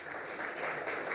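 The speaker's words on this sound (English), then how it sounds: "Give her a round of applause." Brief, fairly faint burst of audience clapping at a grand-opening press conference and ribbon cutting, a dense patter lasting just over a second.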